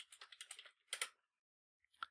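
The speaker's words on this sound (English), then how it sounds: "So I just typed ls space so tab and then n tab, and it did the file completion for us." Quiet typing on a computer keyboard in a Linux shell, a quick run of key taps followed by a couple of firmer presses and a final lone tap after a pause.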